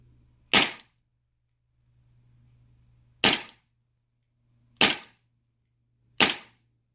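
FNS-9 pistol fitted with a wooden slide skin, four sharp loud shots fired singly with pauses of one to three seconds between them, no talk.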